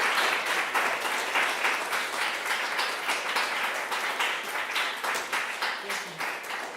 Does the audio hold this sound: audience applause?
yes